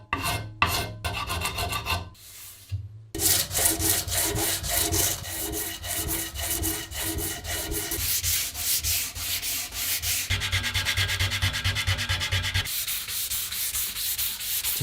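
Sandpaper rubs over a wooden cleaver handle, working up through grits from 120 to 600, in steady, close back-and-forth scratchy strokes after a few brief pauses early on, with no talking.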